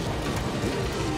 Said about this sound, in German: Es gießt in Strömen.